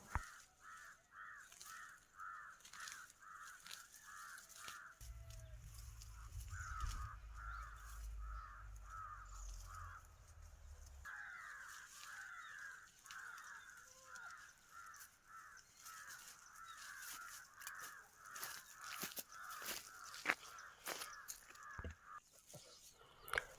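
Crows caw in an early-morning village setting: faint, repeated rhythmic calls in long runs, with brief pauses and a low rumble partway through.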